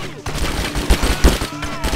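Submachine gun fire from the video game Wheelman, short bursts of rapid shots punching through a busy game soundtrack over two seconds, with no talk.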